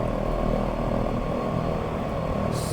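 A propeller airplane in the flight simulator X-Plane, departing runway 14 with a steady, loud droning engine roar that holds constant throughout, no voices.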